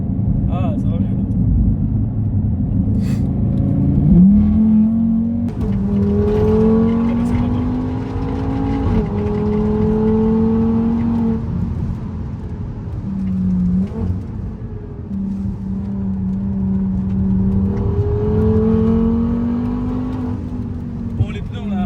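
Tuned Audi RS3 stage 2 with its exhaust valve open, revving through several rising and falling pulls at close range, a steady engine drone throughout with voices talking over it.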